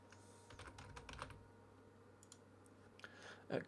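Keyboard typing during a Football Manager 2015 session, bursts of quick clicking keystrokes close up, heaviest in the first second and a half, with a few scattered taps later over a faint steady hum.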